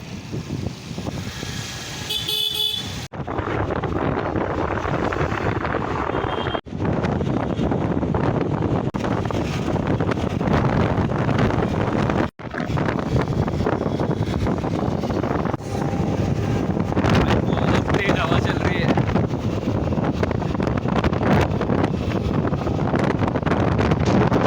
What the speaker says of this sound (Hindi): ठंड भी लग रही है और बहुत तेज हवा चल रही है।